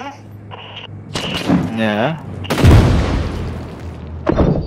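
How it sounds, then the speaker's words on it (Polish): In the video game Six Days in Fallujah, an explosion erupts as a sudden loud boom with a rumbling tail. Voices talk before it, along with a few short sharp noises, and another short crack follows. "Dostałem coś, ale nie wiem co, coś wybuchowego."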